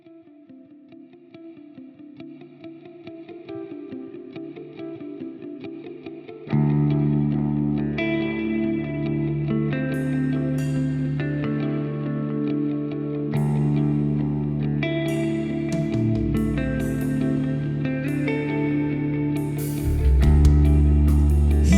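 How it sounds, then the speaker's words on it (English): A sung vocal run through a Quad Cortex processor with delay and reverb whose mix and feedback shift via an expression pedal, building from soft sustained notes into a loud, dense wash of echoing, trailing repeats. "in real time adjusting the expression pedal for different delay and reverb mix and feedback"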